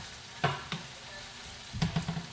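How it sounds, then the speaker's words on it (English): Beef sizzles in a frying pot as it is stirred, with a steady close frying hiss and a few sharper scraping stirs of the spoon. "Keep on stirring, stir as you go to avoid it from drying."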